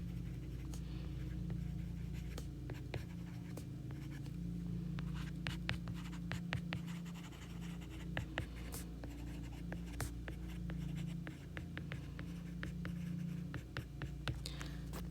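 A pen or pencil writes out logic statements by hand. Steady scratching strokes with short taps and pauses run throughout, quiet and close, with a low hum underneath and no talking.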